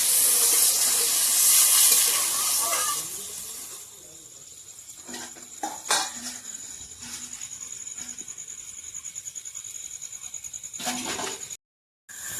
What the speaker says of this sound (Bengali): জল দিয়ে দিই, জল একটা করেই দেবো